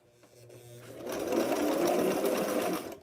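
Close sewing machine stitching a blouse seam, a soft start followed by a steady, fast whirring run of about two seconds before stopping.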